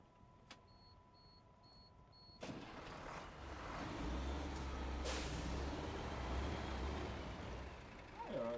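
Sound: heavy truck stopping in SnowRunner video game

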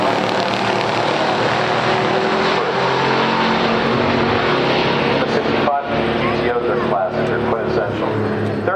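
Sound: 1970 Chevelle 454 LS6 and 1965 Pontiac GTO drag racing

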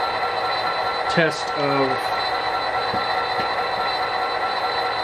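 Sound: Athearn GP39-2 model locomotive running on track

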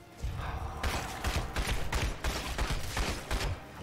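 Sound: semi-automatic weapon gunfire in video game Evil Dead: The Game

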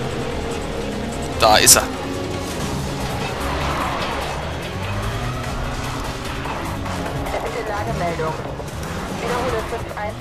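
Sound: car accelerating in Need for Speed Undercover video game

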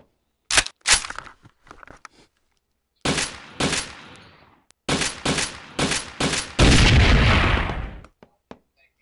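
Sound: gunshots at a grenade, grenade exploding

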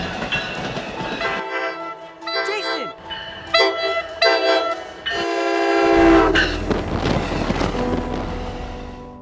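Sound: approaching train with horn

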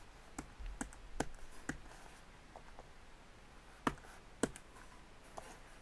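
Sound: typing a password on a MacBook Pro keyboard

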